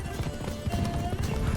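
Roach, a horse in The Witcher 3, gallops with quick, rhythmic hoofbeats that pound close and steady under a faint sustained tone.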